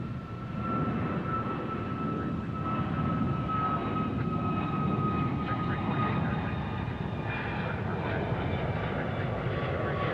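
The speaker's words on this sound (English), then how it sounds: "A321neo taking off there." A321neo jetliner taking off at Dallas Fort Worth airport, a steady broadband engine roar with a whining tone held throughout, loud and continuous for the whole stretch.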